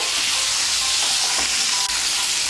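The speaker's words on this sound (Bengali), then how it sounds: "সবজিগুলোকে তেলের সঙ্গে ভালো করে মিশিয়ে নেব" Vegetables for a Bengali vegetarian sukto sizzle loudly in hot oil as they are stirred, a steady dense crackle with faint scraping, close and alone.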